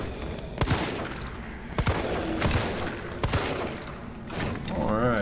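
Gunfire in Resident Evil 3 Remake, several sharp single shots spaced a second or so apart over a busy game soundscape with a voice talking over it, ending in a warbling creature sound.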